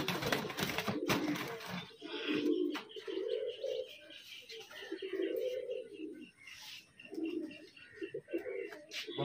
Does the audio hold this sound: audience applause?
no